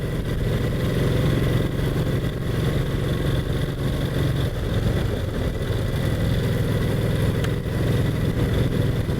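A Brough Superior SS80 motorcycle ridden through country lanes, its engine a continuous steady drone with road and wind rumble, no voices.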